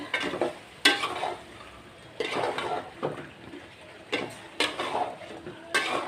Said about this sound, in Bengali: তো এই যে দুন্দুলটা মশলার সাথে একটু কষিয়ে নিলাম